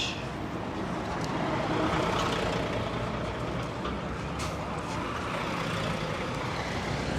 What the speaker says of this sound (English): We have an X27 express bus making its way to Bay Ridge.